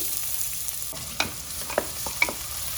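Chopped onions sizzle steadily in oil inside a pressure cooker, with a few sharp scraping clicks from stirring rising above the soft, even frying hiss; no voices.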